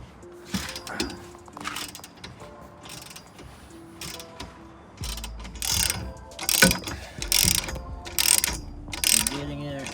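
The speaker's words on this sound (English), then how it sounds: "Now we're tightening the rear bolts, T40 and a T50 below." Ratchet clicking in bursts as bolts are tightened on a roll cage in a BMW E92 M3 track build, T40 and T50 fasteners, close and fairly loud, mixed with clanks and other workshop mechanism noises.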